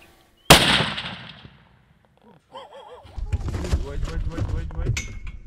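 A single sharp rifle shot cracks out on a South African safari hunt, loud and close with a quick decaying tail, followed by a short pause and then excited voices talking.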